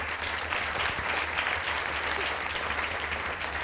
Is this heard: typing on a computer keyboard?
no